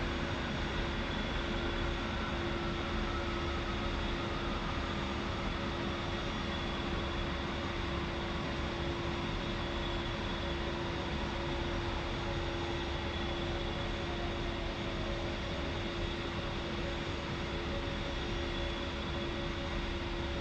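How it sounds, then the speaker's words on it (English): A-10C II jet engines spooling down in a flight simulator game, a steady, dense turbine whine and roar with a faint slowly falling tone running throughout, no voices. "now we will shut down the left engine"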